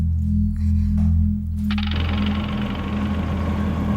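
An auto rickshaw engine thrums steadily with a low, knocking idle rumble, joined partway through by a louder, brighter rattling clatter as it revs and runs, close and continuous.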